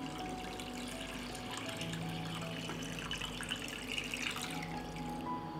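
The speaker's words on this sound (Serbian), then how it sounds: "I sipam vodu u šerpu do visine poklopca." Water poured into a cooking pot lined with a cloth and holding canning jars, filling it to lid height for pasteurizing preserves; a steady, close liquid splashing and trickling continues throughout with no talk.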